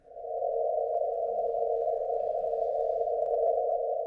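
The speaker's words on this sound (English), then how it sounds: "And this is oxygen." Oxygen's light spectrum rendered as sound: a single steady, slightly rough electronic drone holds at constant loudness for about four seconds, alone and without speech.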